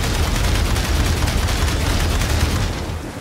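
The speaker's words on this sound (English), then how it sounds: "Open fire." Sustained automatic gunfire from the Aliens: Dark Descent video game, a dense, loud, continuous rattle of shots with booming low end that runs the full length and eases slightly toward the end.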